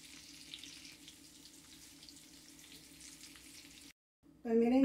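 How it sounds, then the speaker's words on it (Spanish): Breaded tilapia fillets frying in hot oil in a home kitchen give a steady, close crackling sizzle, which cuts out abruptly near the end before a short louder burst. "ya acabé de freír"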